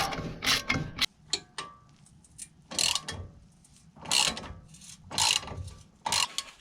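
A ratchet wrench with a 21 mm socket works on the suspension bolts of a BMW F20/F30 during a lowering-spring fit: several bursts of rapid clicking separated by short pauses, close and distinct, with no talk.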